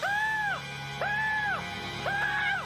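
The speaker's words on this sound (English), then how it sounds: "he literally screams and can't stop" SpongeBob, the cartoon sponge, screams in fright in three loud, drawn-out wails separated by brief gaps, each rising sharply and then trailing off.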